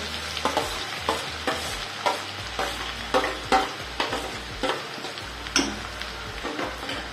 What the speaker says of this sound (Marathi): आता हा कांदा आपल्याला मस्त परतवून घ्यायचा आहे, थोडा लालसर होऊ द्यायचा आहे।